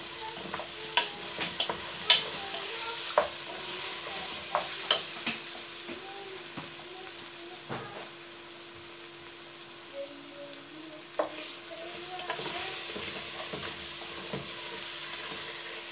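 Onion frying with raisins, paprika, black pepper, ginger, ras el hanout and salt for Algerian berkoukes, a steady close sizzle with scattered light clicks and taps of stirring, no voices.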